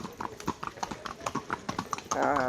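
A horse walks on a hill-station path in Matheran, its hooves clip-clopping in a close, regular rhythm, with a brief burst of other noise at the end; no talking.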